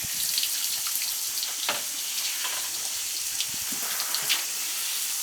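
Water is poured or sprayed over Arapawa bucks during their wash, making a steady, continuous rushing hiss that runs throughout with small splashy flickers and no talk.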